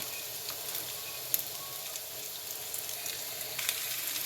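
Mongolian pork frying in oil in a pan, a constant close hiss and crackle with occasional sharper pops and no talk.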